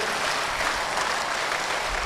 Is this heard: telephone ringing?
no